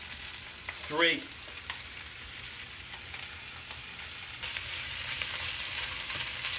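Bacon and sausages fry in a pan with a soft, continuous sizzle, a short clatter near the start as food goes in, and the crackle growing a little louder toward the end while a person speaks briefly.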